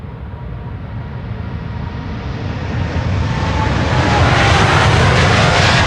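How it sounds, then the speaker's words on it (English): A KLM Boeing 787-10 Dreamliner leaves Amsterdam Schiphol for Houston, its jet roar building steadily from a moderate rumble to a loud, close, hissing blast as it passes, with no talking. "This is KLM flight 661 to Houston in Texas, a 787-10 Dreamliner"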